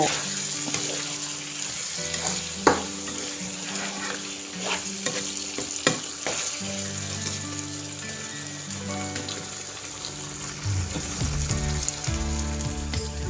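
Cucumber and egg stir-fried in a pan over raised heat: a continuous crackling sizzle broken by repeated scraping and tapping of the spatula against the pan, close and busy, with a louder clack early on and no speech.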